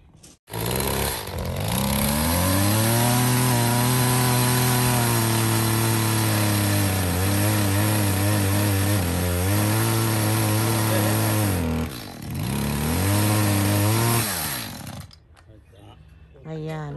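Chainsaw cutting through tree roots while digging for a backyard gate post, engine droning loud and steady for about fifteen seconds with pitch dips as the chain bites, then idling down.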